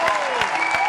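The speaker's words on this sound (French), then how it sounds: "applaudissez pour Momo" An audience briefly applauding for a man named Momo, a short burst of clapping heard under a voice speaking.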